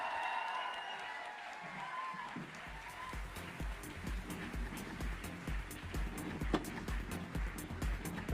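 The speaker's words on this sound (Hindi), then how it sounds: "तालियां जोर से बजती रहे" Applause from an audience at an Indian direct-selling association event, broad and steady with some rhythmic clapping and a low thumping beat underneath, heard at a distance without clear speech.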